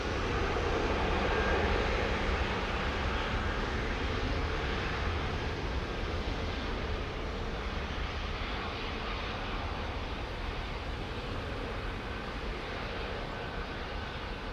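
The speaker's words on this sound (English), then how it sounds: "very lazy, those 330s. The Trent 700 has a very long spool up." The Trent 700 engines of an Airbus A330 at Heathrow build into a steady, loud broadband roar with a whining edge that stays constant and close across the whole stretch, with no voices.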